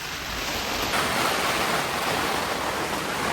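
A rushing, swollen mountain river churns in the rain near Pirqulu, making a steady, loud broadband roar that carries unbroken through the whole stretch.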